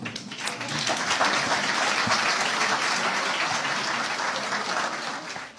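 An audience applauding in a lecture hall after an academic conference, dense sustained clapping heard from across the room, steady and fairly loud for several seconds.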